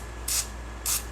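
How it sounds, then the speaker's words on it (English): Houdini lubricant spray goes into a Schlage lock in two short hissing bursts, each about a tenth of a second long with a brief gap between them, close and fairly loud over a low background hum. "just spraying some Houdini down in here, trying not to get it completely everywhere else"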